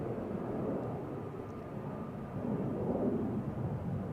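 An aircraft taxiing at Amsterdam Schiphol Airport, a steady low engine rumble heard from a distance that swells slightly toward the end, with no voices.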